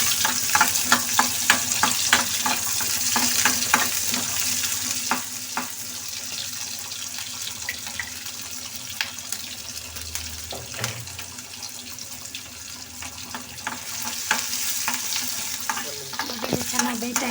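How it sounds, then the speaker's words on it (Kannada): Onions frying in a pan for an egg fry dish, with a loud continuous sizzle and repeated spatula scrapes as they are stirred, heard up close with no talking. "ಈರುಳ್ಳಿ ಹಾಕ್ತಾ ಇದ್ದೀನಿ. ಚೆನ್ನಾಗಿ ಬಾಡಿಸ್ಕೊಳ್ಳಿ."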